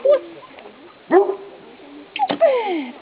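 A trained dog in an obedience session gives several short yips and whimpering barks, close and fairly loud, with quiet gaps between them.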